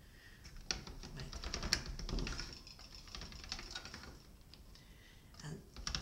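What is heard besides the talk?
polymer clay being fed through a pasta machine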